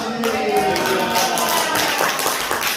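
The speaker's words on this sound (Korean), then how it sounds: "박수로 맞이합니다" A church congregation at a Korean revival prayer meeting claps to welcome a visiting pastor to the pulpit, a steady wash of many hands under a faint sustained tone.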